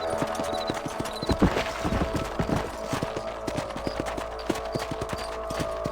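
Horse hooves clip-clop at a steady trotting rhythm in the Red Dead Redemption game, close and clear over a background of music and ambient sound.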